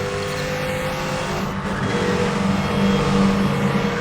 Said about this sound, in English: Tires screeching around a turn sounds equally as good